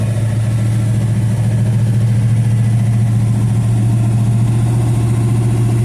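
A 55-year-old 1968 Dodge Dart GTS with a 383 big-block V8 and four-speed idles close by, a loud, steady, deep rumble that holds even without revving, with no voices over it.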